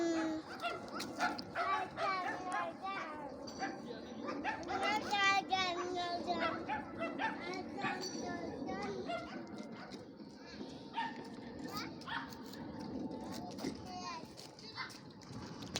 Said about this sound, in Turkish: Senin küçük köpekler yine bağırıyor değil mi